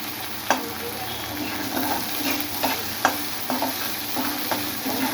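Prawns frying in a pan for a prawn fry, a steady close sizzle with a ladle scraping and tapping the pan at irregular intervals as they are stirred, no voices.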